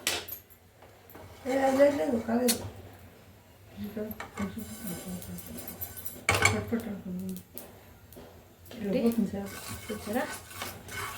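Whole turmeric root dry-roasted in a pan for homemade sambar powder: repeated scraping and clattering of a metal spatula against the pan in irregular bursts, close and moderately loud, with a voice faintly in the background.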